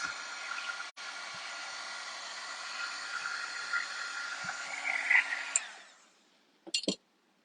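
A dryer blows a steady, loud rushing whoosh over layered paper-craft work with an ice effect for about six seconds, then cuts off, followed by a brief clatter.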